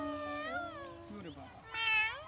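A person's voice imitates a cat, giving a few drawn-out, wavering meows in quick succession, close and clear, ending on a louder, rising call.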